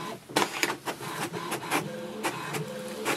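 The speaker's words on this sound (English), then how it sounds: "So here is the printer information page" An HP Tango printer runs off its information page, a close mechanical whir broken by a quick series of clicking, ratcheting pulses and rolling feed sounds, continuous and without speech.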